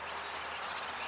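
Birds calling outdoors, a steady high-pitched chorus of overlapping calls and chirps at moderate distance, continuous through the short stretch with no talking.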